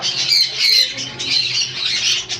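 Sun conures, hyper double-factor birds, squawk loudly and shrilly in a rapid, continuous overlapping chorus close by.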